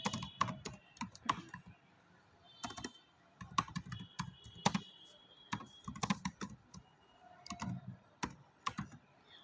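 Typing on a computer keyboard while entering text in Corel Draw produces a quiet, uneven run of key clicks in short bursts with small pauses between them.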